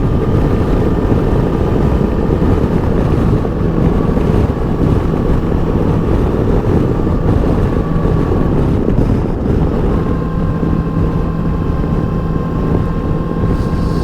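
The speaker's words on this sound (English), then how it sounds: "with this windscreen, the wind is still there" Loud, steady wind rush buffets the microphone while riding a Macbor Montana XR5 500 motorcycle fitted with a windscreen, with a low engine drone beneath, continuous and unbroken throughout.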